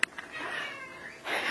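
A house cat gives a short meow, then a longer, drawn-out cry that swells at the end, heard close and alone indoors.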